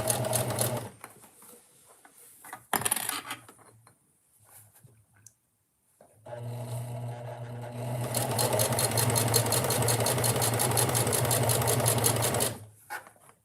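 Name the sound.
sewing machine running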